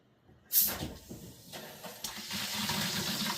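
A bathroom sink faucet, freshly coated with Rust-Oleum Tub & Tile spray paint, is turned on after a quiet start, sputtering briefly before settling into a steady nearby stream of running water.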